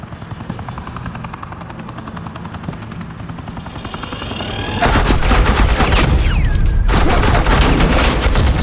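Helicopter rotor drone in Batman: The Enemy Within, building steadily before bursts of suppressing gunfire from agents erupt loudly and continuously over the whirring, with a brief gap then more shooting.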